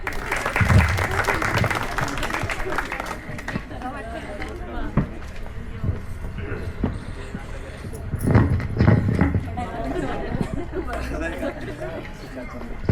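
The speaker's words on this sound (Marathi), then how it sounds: "टाळ्या वाजवा." Audience at a felicitation get-together clapping in bursts, rising strongly near the start and again around the middle, mixed with crowd chatter and an announcer's voice.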